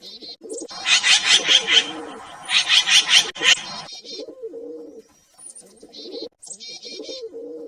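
Pigeons and doves coo, with bright rhythmic chirping bursts in two loud clusters followed by softer scattered calls and short pauses, all clear and close with no voices.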